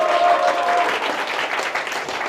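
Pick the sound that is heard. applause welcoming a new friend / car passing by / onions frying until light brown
applause welcoming a new friend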